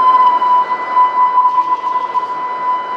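Blank Serato timecode vinyl records playing with no music loaded: a steady, loud, piercing high sine-like tone with faint warbling and hissy surface noise, continuous throughout with no talk.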